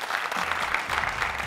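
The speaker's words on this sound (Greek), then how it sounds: "θέλω να πάρει ένα θερμό, δυνατό, τεράστιο χειροκρότημα" A Greek Wheel of Fortune game show studio audience gives a chef warm, sustained applause, a dense even clapping that runs the whole time.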